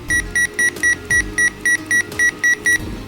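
RadioShack 21-1679A radio sounding its invalid-press tone, a rapid string of around twelve identical short, piercing beeps at an even pace, loud and close with no talking.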